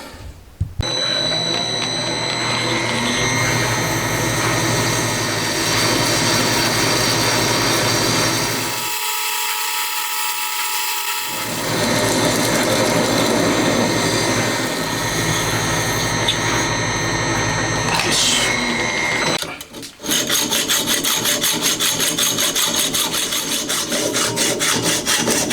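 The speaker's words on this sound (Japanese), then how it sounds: "これで旋盤作業終わりです" A lathe cutting a metal part for a Honda Monkey engine rebuild produces a loud, continuous grinding whine that drops out for a couple of seconds midway, then resumes and continues to the end.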